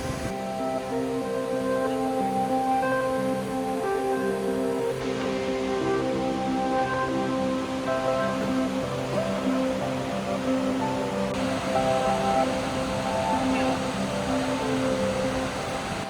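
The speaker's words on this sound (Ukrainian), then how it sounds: "Ось так виглядає найбільший водоспад Орегону висотою 138 метрів" Multnomah Falls in Oregon, the state's tallest waterfall at 138 metres, pours in a steady, dense roar that holds at the same level from start to end, with no voices over it.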